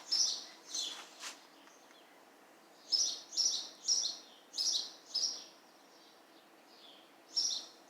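Short bird chirps in bursts, first a few scattered calls, then a quick run of five evenly spaced tweets and one more at the end, moderately close.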